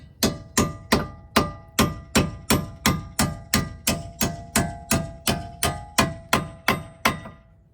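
Steady metallic hammer blows, about twenty evenly spaced ringing strikes, drive wheel studs back into a car's hub at a tire shop, loud and close with no talking.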